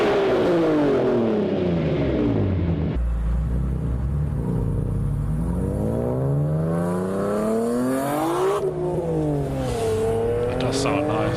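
BMW E46 M3 with the S54 inline-six and an Eisenmann Race exhaust revving hard, its raspy note climbing and falling through repeated sweeps, loud and close. A rough, low-quality recording.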